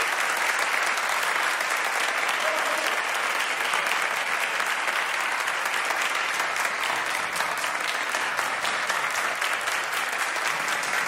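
An audience gives sustained, dense applause to a youth training orchestra after a stage performance, a steady even wash of clapping from many hands lasting about eleven seconds.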